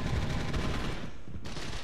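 Rapid gunfire rattles in the online shooter game Gotham City Impostors, a dense, loud burst of shots that briefly drops out before resuming.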